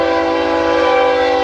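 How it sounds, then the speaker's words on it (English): Passenger train on a new Colorado rail line sounding a long, loud, steady horn chord that holds throughout as it passes close by, with no talk. "Now we got the train."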